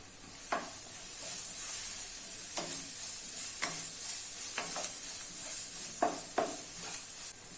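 Chicken liver masala stirred in a pan with chilli, coriander and turmeric powders, a steady frying hiss broken by a few sharp spoon scrapes against the pan, near and alone.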